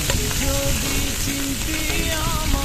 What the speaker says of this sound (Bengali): তারপরে পেঁয়াজগুলো আর রসুন কুচি আর কাঁচামরিচ একটু হালকা লালচে ভেজে নেব